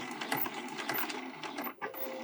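A sewing machine stitching over the strap of a small striped tote bag, a quiet continuous mechanical whir with a short pause near the end before stitching resumes.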